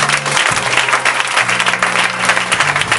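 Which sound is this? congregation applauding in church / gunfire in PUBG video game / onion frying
congregation applauding in church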